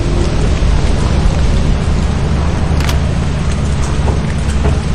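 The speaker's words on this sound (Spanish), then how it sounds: "Está lloviendo." Steady rain in the video game Lethal Company, a dense continuous hiss of falling drops with a low rumbling undertone, even and unbroken throughout, with no voices.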